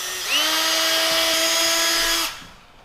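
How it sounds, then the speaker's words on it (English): A power drill drills a pilot hole after an automatic center punch, whirring steadily for about two seconds, starting with a brief spin-up and then winding down, close by with no talking. "We're gonna use our automatic center punch so we can drill a pilot hole."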